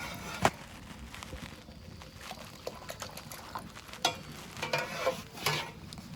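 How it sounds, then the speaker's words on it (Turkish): Food cooks on a village stove while lor cheese is being made, soft sizzling and liquid stirring with occasional clinks and scrapes, close and fairly quiet, no talk over it. "Ocağımızın üstünde de yemeğimiz pişiyor şu anda."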